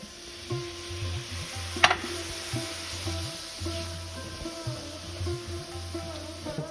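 Tomatoes hit hot oil with frying onion masala for a dry chicken sukka, giving a steady soft sizzle under repeated scraping stirs with a spoon in the pan, close by and fairly quiet.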